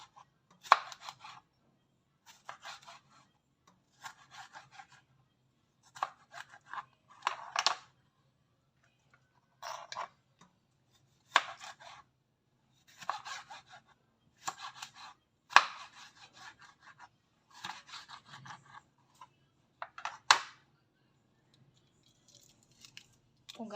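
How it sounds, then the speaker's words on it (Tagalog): A knife slices tomatoes on a cutting board, giving repeated short bursts of crisp chopping in uneven clusters separated by quiet pauses. "At ating i-slice ang ating kamatis."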